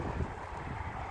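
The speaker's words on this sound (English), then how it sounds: "A little windy." Wind gusts outdoors in a fall woodland beside a pear tree, a short burst of low rumbling buffeting against the microphone, with no voices over it.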